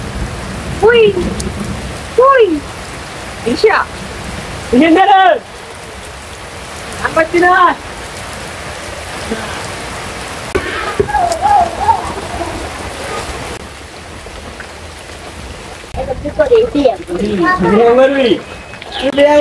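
Heavy rain falls steadily outdoors as a constant wash of drops on surfaces, with a voice speaking in short bursts over it throughout.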